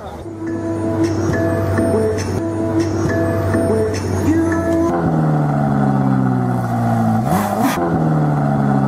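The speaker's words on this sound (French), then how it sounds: "Je vous emmène faire un tour de Ferrari." A Ferrari sports car engine revs and drones steadily, its pitch shifting and then rising sharply near the end, loud and close throughout.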